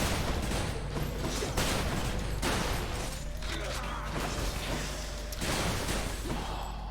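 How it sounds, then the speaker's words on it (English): Explosions boom and crash continuously in the Doom video game, with the shotgun-heavy combat sounding like a dense barrage of blasts that stays loud throughout. "It is very hard to tell what's going on with all the explosions and stuff."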